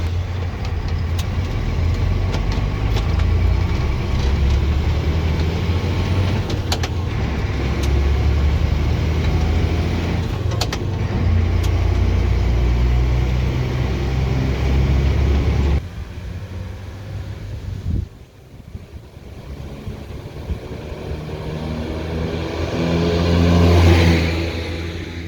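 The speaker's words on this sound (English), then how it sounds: "We're going to have a nice steady ride. It's the first time out on these new wheels and tyres." A Unimog U400 truck on new wheels and tyres drives along steadily, its engine drone and road rumble loud and close throughout, briefly easing before building again near the end.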